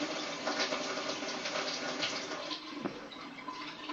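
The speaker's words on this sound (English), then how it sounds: "you can hear the cold water running in the background" A cold water tap runs steadily in the background during work fitting an outside tap, a constant broadband hiss of flowing water at moderate level with no talk.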